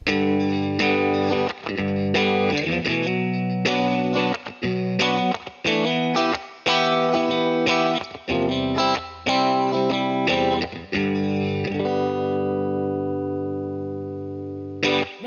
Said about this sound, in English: I'll put it together one more time with the bar chords